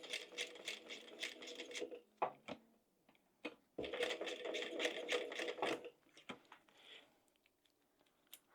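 A sewing machine stitches a fish-shaped zip pouch, running in two steady, buzzing bursts of rapid needle strokes with brief clicks and pauses between them, close up and without talk.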